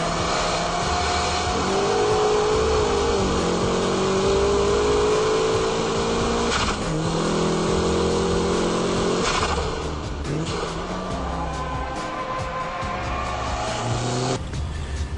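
A drifting car's engine revs continuously and loudly through a heel-toe downshift under braking, its pitch rising and dipping with throttle blips, close and steady with no speech.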